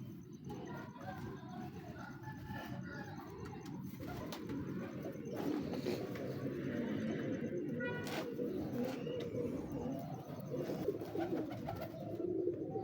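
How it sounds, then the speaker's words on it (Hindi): Pigeons of a high-flying breed cooing steadily, fairly close, with soft overlapping coos over a low background rumble and faint talk. "बड़ा तगड़ा कबूतर है"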